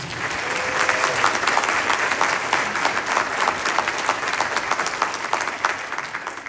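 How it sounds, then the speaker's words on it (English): Audience at a county honors band concert in a high school applauds the conductor, a dense, steady wash of many clapping hands sustained throughout at close range. "How about a round of applause for Tom?"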